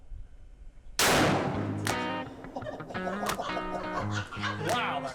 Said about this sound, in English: To the uninitiated, it fires like a cannon.